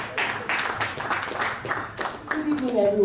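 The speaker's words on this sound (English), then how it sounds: "Please keep clapping." Audience clapping at a stakeholder policy dialogue event as a speaker comes up to the stage, a steady patter of many hands filling the hall, with tonal sounds rising near the end.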